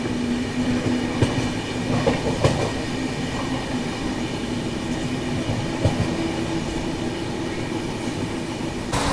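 The 12276 New Delhi Prayagraj Humsafar Express runs at speed on its non-stop journey past Kanpur, a steady loud rumble with rhythmic wheel clatter and a faint squeal throughout.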